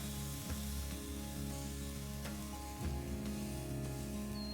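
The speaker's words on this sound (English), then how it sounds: "So let's go get the steak seared" A steak sears on the hot grate of a charcoal Weber grill, giving a steady, close sizzle with soft crackles over a constant humming tone, and no one speaking.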